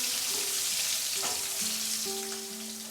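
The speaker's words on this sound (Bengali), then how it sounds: "আলুটা ভাজার সময় সামান্য হলুদ আমি দিয়ে দিলাম।" Potato pieces fry with turmeric in a wok for a Bengali fish curry, a close, steady sizzle and crackle with light stirring scrapes and a few faint tonal hums. The frying eases slightly toward the end.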